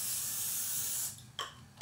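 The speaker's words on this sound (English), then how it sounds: "with my nonstick spray." Nonstick cooking spray hisses steadily onto parchment paper for about a second, followed by two short sharp crinkles or taps.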